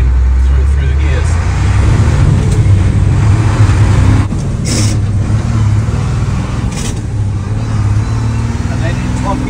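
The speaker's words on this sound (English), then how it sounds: "I just slip it a tiny bit so she's kind of rev matching through the gears." A truck with a crash gearbox revs loud and close, its engine droning steadily and rising and falling as it works through the gears, with a brief lull midway.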